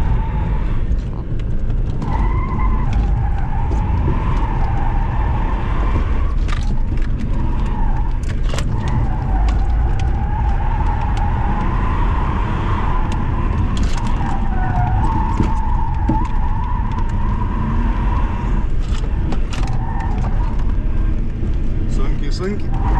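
A diesel car drifts sideways on a driving area, its engine droning steadily while the tires skid and squeal in long wavering tones, with people talking in the cabin throughout.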